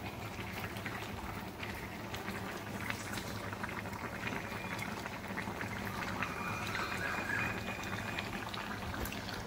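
Fish curry gravy simmers and reduces in a pan, giving a steady, soft bubbling and sputtering that holds evenly throughout with no voices.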